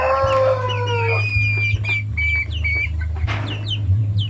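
Hens clucking steadily and fairly close on a backyard poultry farm, with a few sharper squawks and calls over a constant low hum.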